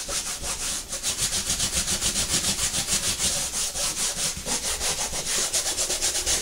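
Steady back-and-forth rubbing on a DIY canvas wall decor piece, flipped over to its hollow back, with even rhythmic strokes close up and no talk.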